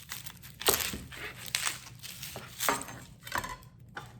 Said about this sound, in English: I'm just gonna cut them in big chunks